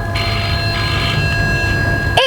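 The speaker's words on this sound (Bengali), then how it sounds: "অথচ আপন মনে রিংটোনটা বেজে চলেছে" An odd phone ringtone sounds from inside a bag in an eerie horror-film scene: sustained electronic tones and bell-like ringing repeating near and loud, with a brief voice at the end.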